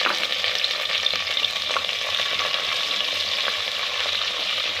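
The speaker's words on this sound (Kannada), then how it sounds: "ಹಸಿಮೆಣಸಿನ್ಕಾಯಿ, ಕರಿಬೇವು ಸೊಪ್ಪು ಹಾಕ್ತಾ ಇದ್ದೀನಿ." Green chillies and curry leaves crackle and sizzle steadily in hot tempering oil, a dense, continuous frying hiss with small pops throughout, close and alone without any talk.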